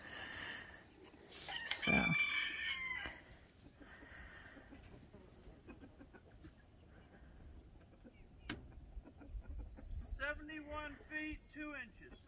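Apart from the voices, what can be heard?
chickens clucking and rooster crowing near a coop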